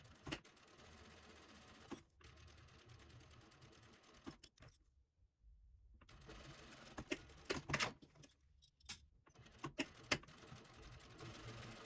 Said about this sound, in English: we will take it to the sewing machine and we will secure it on the top